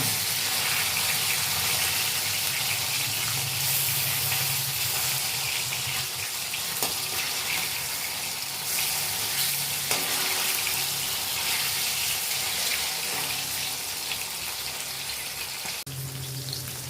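Fish frying in an iron kadai crackles and sizzles continuously at close range for the whole stretch, with occasional clinks and shifts in the spatter and no one speaking.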